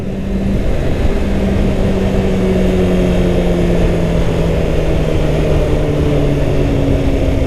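Kawasaki Ninja 636 motorcycle engine pulling steadily through the gears, a continuous loud drone with slowly shifting pitch and strong wind rush, close by and without talk.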